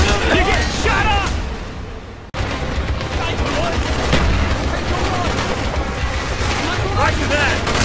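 Heavy, dense gunfire and explosions roar nonstop in the Call of Duty: Black Ops video game, loud and close, with shouted voices over the battle noise and a brief cutout partway through.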